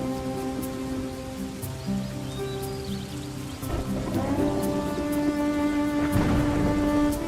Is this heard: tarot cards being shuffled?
no